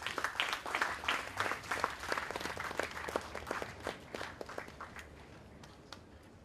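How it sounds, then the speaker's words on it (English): An audience claps to welcome a speaker at a DST Inspire camp, sustained dense applause that starts strong and slowly thins and fades over several seconds, with no talking over it. "Can you please all clap your hands to welcome Mr. Ajith Basu."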